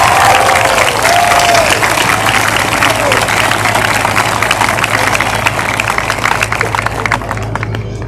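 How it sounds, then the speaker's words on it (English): A crowd applauds at a high school graduation ceremony, a loud, dense wash of clapping that continues steadily over a low background rumble, with a few brief voices at the start. "Let's give them a round of applause."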